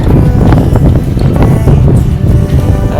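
Strong wind buffets the microphone on a coastal walk near Garlieston in Scotland, a loud, continuous rumbling roar with gusty swells and no voices.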